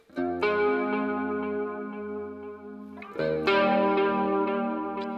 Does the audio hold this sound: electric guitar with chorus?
yes